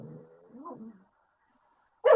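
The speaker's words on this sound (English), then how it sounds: "dog's growling at her" A dog makes a low, rough vocal sound for about a second, then falls silent before a short, louder burst of noise cuts in at the end.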